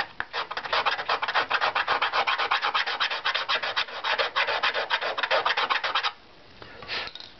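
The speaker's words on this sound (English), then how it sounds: "So this is a curved scraper," A curved scraper works the wooden top plate of a guitar, giving a close, rhythmic run of quick scraping strokes that stops near the end, leaving one faint final pass.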